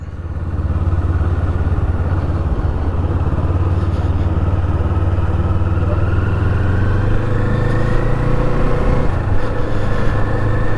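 A Kawasaki Eliminator motorcycle cruises at low speed around town, its steady engine drone loud and continuous with gentle rises in pitch as the rider shifts, heard alone without talk.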